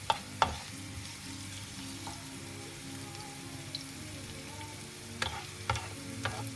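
Onions frying and browning in a pan on a gas burner, the start of a sauce for salmon. A quiet, steady sizzle runs throughout, with a few sharp clicks and scrapes of stirring.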